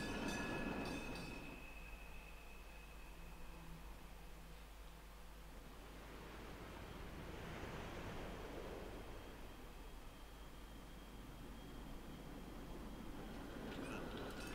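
Steady rumbling train ride in the video game Final Exam, a broad, continuous rolling noise with faint metallic tones, a low drone throughout with no talking.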